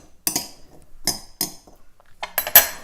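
Spoon clinking and scraping in a bowl while tossing a broad bean salad with chopped tomatoes, a few separate bursts of clatter with quiet pauses between them.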